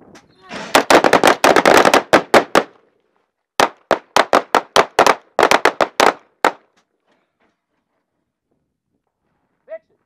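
Rapid strings of pistol gunshots fired during a timed shooting drill, loud and close, in two fast bursts with a short pause between them, then quiet apart from one faint click near the end.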